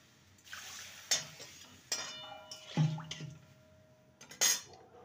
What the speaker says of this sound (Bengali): এবারে জল দিয়ে ভালো করে ধুয়ে নেব